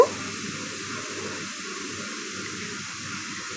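Water splashing into a hot pan of frying onions and prawns sets off a steady, close hiss of sizzling that holds evenly throughout without a break.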